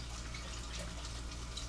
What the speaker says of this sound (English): I hear our water starting to boil.